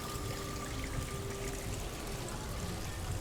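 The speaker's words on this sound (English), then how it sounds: "this is just a water feature of La Hacienda" Water splashes and pours steadily from a decorative water feature at La Hacienda in Aruba, a constant rushing wash with no breaks and no voices over it.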